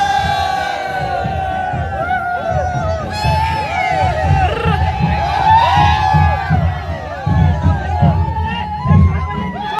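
Children whoop and cheer loudly amid a crowd at a Shimga festival procession in Kadvai village market, where a palm is carried and danced; excited shouts rise and fall over a constant hubbub of voices.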